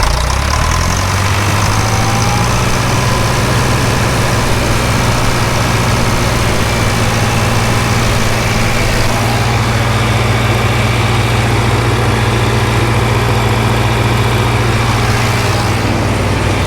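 Oxbow BH100 green bean harvester engine held at a steady 1800 RPM, a loud continuous mechanical drone that builds from low revs in the opening second, then runs evenly throughout with no talk.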